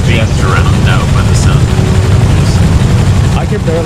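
Helicopter engine in the video game Rust, a loud, steady rotor-and-engine drone that fills the whole stretch, with faint voices underneath.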